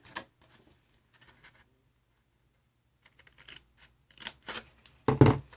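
Quiet, intermittent snipping and crinkling of scissors cutting paper, in short scattered bursts with pauses, ending in a louder rustle.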